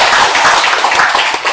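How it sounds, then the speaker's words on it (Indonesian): Dense, loud applause from a crowd honoring a guest at a PGRI Flores Timur teachers' association branch conference in Titehena, sustained without a break. "Kita patut memberikan aplaus untuk dia."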